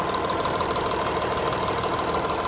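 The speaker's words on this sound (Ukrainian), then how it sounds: "Власне робота двигуна." The 3.0 TDI diesel engine of a 2012 Audi A6 Allroad idles nearby with a steady, even clatter and hum that holds at a constant level.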